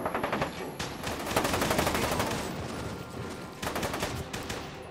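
Sustained automatic gunfire from a gun in the video game Fear 2, rapid rattling bursts that run almost continuously, loud and close, easing slightly midway before another burst, with no talk.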